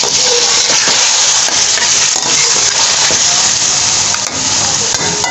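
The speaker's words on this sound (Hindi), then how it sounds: "अब हम डालेंगे इसमें ये टमाटर का पेस्ट, इसको अच्छे से फ्राई करेंगे इसके साथ।" Chicken fries in a pan with tomato paste for an arvi chicken shorba, giving a loud, steady, close sizzle with faint stirring scrapes, unbroken by speech.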